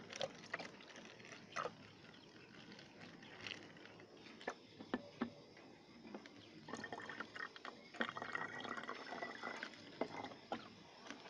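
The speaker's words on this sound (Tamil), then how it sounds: "வினிகரை விட 2 மடங்கு இந்த அளவுக்கு வந்து வாட்டரை வந்து நம்ம ஃபில் பண்ணிக்கிடுவோம்" Water poured into a bottle already holding vinegar while mixing a homemade fire extinguisher, giving a soft, steady trickle and splash that is fairly faint, with small drips and clinks scattered throughout and no talk.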